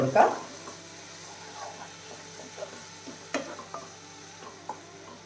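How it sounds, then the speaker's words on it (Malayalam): Masala for egg roast sautés in a pan: a low sizzle runs throughout, a louder clatter opens it, and scattered soft spatula scrapes and taps follow. "മസാല ഉണ്ടല്ലോ അത് ഒഴിച്ചു കൊടുക്കാം അപ്പോൾ ഇതിൻ്റെ പച്ചമണം മാറുന്ന വരെ ഒന്ന് വഴറ്റി"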